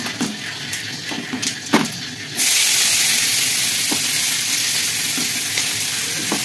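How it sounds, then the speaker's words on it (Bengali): Chopped onions fry in hot oil tempered with cumin and dried red chillies. A few clinks come first, then a loud, steady, close sizzle hisses on without a break. "তোমরা দেখতেই পাচ্ছ, পেঁয়াজ একটু ভাজা হয়ে গেছে"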